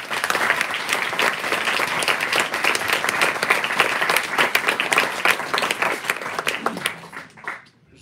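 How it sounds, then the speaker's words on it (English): A concert audience at a string music festival applauds loudly and continuously for several seconds, the clapping dense and sustained before tapering off at the end. "On peut les applaudir bien fort."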